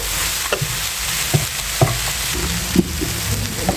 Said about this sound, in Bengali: এইভাবে লো ফ্লেমে সুন্দর করে সবজিটা রান্না করে নিতে হয়